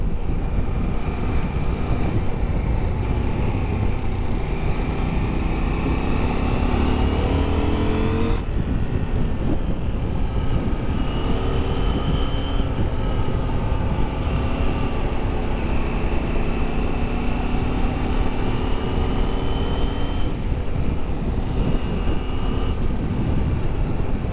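A Husqvarna Svartpilen 801 motorcycle engine roars continuously and loudly, its pitch sweeping upward several times as it accelerates and revs, with steady road noise underneath.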